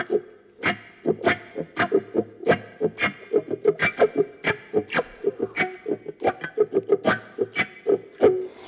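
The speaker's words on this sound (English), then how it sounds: "you gotta fling that wah forward, but then it's just gotta be there for a second, and you gotta kind of catch that sound on the way back" An electric guitar played through a wah pedal gives rhythmic, repeated plucked notes, each swept with a vocal-like wah, in a steady, moderately loud pattern with some distortion.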